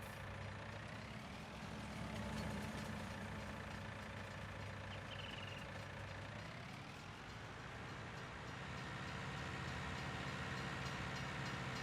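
A heavy, steady rumble of a train rolling past, with engine drone and a faint rising and falling tone, continuous and fairly quiet, from the video game Farming Simulator 19.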